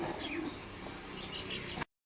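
Soft, low pigeon cooing continues for about two seconds against a steady, noisy background, then stops abruptly.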